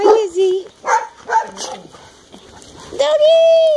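A dog at a dog daycare giving short barks, yips and whimpers in a few loud, close bursts, ending in a longer drawn-out whine.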